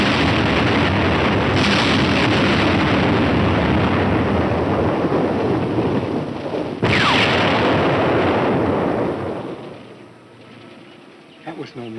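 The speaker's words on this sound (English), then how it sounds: "From the sound of the explosions, they missed." Loud, dense rumbling bursts of wartime explosions in the 1945 film A Walk in the Sun roll continuously, with a sharp blast near the middle, then the roar fades away toward the end.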